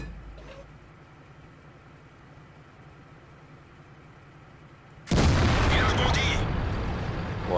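A tank gun fires in War Thunder as one sudden, loud blast after a stretch of quiet engine idling, followed by a rumbling, crackling tail.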